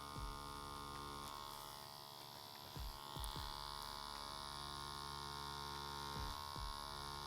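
Steady electric buzz of a tattoo machine during tattooing as the needle runs low on ink, a constant close hum with a few faint taps and knocks, no voices.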